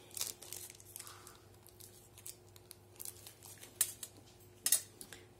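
Quiet sticky peeling and crinkling of double-sided tape being pulled, with a few sharper tearing rips near the end.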